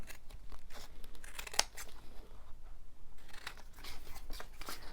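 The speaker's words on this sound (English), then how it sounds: "Let's cut all that excess off and then we won't be gluey." Scissors snip excess paper off a junk journal, a sharp close cut standing out among quieter paper rustling and handling, with no voices.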